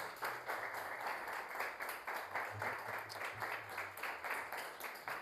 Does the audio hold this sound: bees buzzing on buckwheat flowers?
no